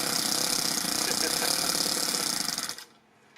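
A Toyan FS S100G four-stroke model engine fitted in an RC car runs at a fast, rattling idle up close, then abruptly cuts out and falls silent near the end.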